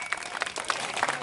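Audience applause at a comedy stage show, a brief burst of scattered clapping at moderate distance, fairly faint and uneven.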